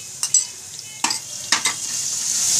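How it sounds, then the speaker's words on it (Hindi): Garlic sizzles steadily in a pan of hot oil for a Matar Gosht curry. A spoon or spatula stirs and clinks against the pan a few times, and the frying hiss grows louder toward the end. No one speaks. "फिर मैं इसमें लहसुन एक चम्मच डाल के भूनूंगी।"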